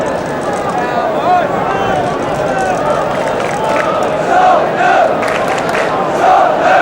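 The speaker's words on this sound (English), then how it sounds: "A long time since they've had a crowd quite as big as this at White Hart Lane" Large football crowd packing White Hart Lane for a Spurs versus Chelsea match, a dense roar of voices that swells in waves of cheering, loud and continuous throughout.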